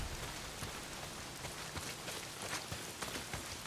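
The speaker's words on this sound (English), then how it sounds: "Well, not if it's pissing down rain." Heavy rain pours down in the Days Gone video game, a steady dense hiss with scattered drip and splash hits throughout, loud and continuous without any voices.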